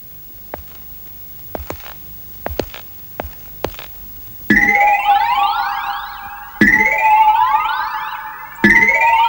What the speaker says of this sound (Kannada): ನಿಮ್ ಫ್ಯಾಕ್ಟ್ರಿ ಸೈರನ್ ಅದು.